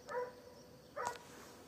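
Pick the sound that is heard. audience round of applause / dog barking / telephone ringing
dog barking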